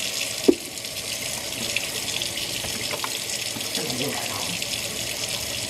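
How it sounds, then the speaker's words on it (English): Meat being rinsed under a running kitchen tap: a steady, continuous stream of water splashing into the sink, with faint handling knocks from the meat. "I'm just gonna rinse the meat"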